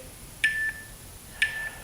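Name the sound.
beeps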